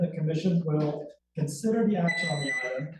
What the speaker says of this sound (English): I apologize for that beeping. Something's wrong with this security door